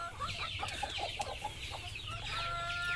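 Native country hens and a rooster on an organic farm cluck and chatter in a steady, overlapping stream of short calls at moderate distance, with a few sharper squawks.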